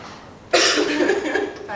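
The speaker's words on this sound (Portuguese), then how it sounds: "Não é que eu tô com tosse mesmo." One harsh, close cough bursts out loudly midway during a band rehearsal, holding for over a second after a quiet lead-in.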